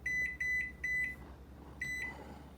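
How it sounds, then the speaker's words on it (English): A kitchen timer set while yeast rolls rise gives repeated short, sharp electronic beeps: a quick run of four, a pause, then two more, loud and close over a low steady hum. "And now we're going to set the timer for 30 minutes."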